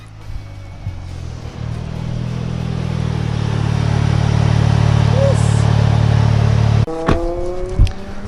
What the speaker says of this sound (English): I hope you guys enjoyed that driving footage of the 2017 Audi S3 with the integrated engineering cold air intake, as well as this catback exhaust